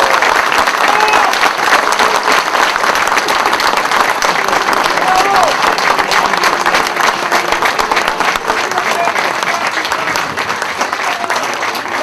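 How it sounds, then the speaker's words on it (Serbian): A large crowd claps loudly and continuously at a coalition candidates' campaign rally in Serbia, the dense applause going on without a break. "Ja se zahvaljujem stvarno na ovim toplim aplauzima"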